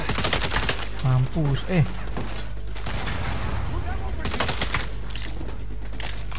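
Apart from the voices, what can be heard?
gunfire in Saints Row video game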